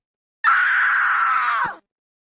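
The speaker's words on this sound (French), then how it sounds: "Un hurlement atroce, long, un hurlement d'épouvante retentit soudainement pendant le cours de français, en provenant du couloir." A long, terrified scream rings out from a school corridor during a French lesson, one sustained high wail of about a second and a half that cuts off sharply, loud and alone.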